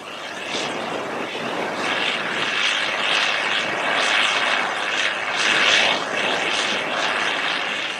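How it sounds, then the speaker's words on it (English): A loud, steady engine drone rumbles continuously with a rough, broadband roar that swells slightly as big tractors, including an International Super 70 STS 7288, chisel plow a field nearby, with no talk. "see and hear all these big tractors at work"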